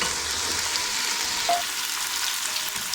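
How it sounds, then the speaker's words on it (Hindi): Chicken pieces with spices, chili sauce, soy sauce and vinegar fry steadily in a pan, a continuous close sizzle with faint stirring scrapes and no talking. "मैंने सारे मसाले डाल दिए थे और चिली सॉस भी डाल दिया है, सोया सॉस भी और सिरका भी डाल दिया और मैं इसको भून रही हूँ"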